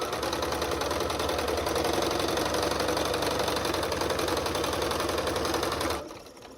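Sewing machine stitching quilt pieces together for a Southwest Snowball quilt, a steady rapid mechanical whirr running loud and continuous for about six seconds, then stopping abruptly.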